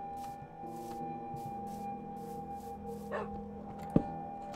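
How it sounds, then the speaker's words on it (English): A wolf in Minecraft lets out a short, sharp bark in a quiet underground tunnel. It comes once, clearly, near the end over a low steady hum and a few soft footsteps. "Heard a wolf woof. The wolf woofed."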